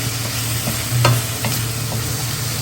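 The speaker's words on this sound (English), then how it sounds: "even the sizzling sounds very soothing" Steady close sizzling of chilli paneer frying in a pan, with a few light scrapes of stirring over the constant hiss.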